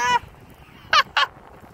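Birds near a beach where a crab is being caught give three short, nasal honks: one at the start, then two close together a moment later, fairly near over quiet background noise.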